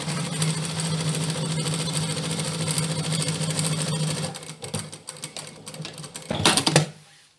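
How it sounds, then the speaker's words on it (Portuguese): A sewing machine runs steadily, stitching black fabric of a toddler's dress below the zipper, a continuous close whirring hum that slows and stops near the end with a brief burst. "vou costurar daqui onde tá meu zíper para baixo"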